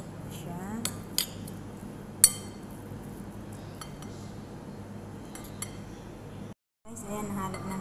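Ingredients for tortang repolyo, a cabbage and tuna omelette, being mixed in a bowl: a utensil clinks and taps against the bowl a few times over quiet background, with a brief silent gap near the end.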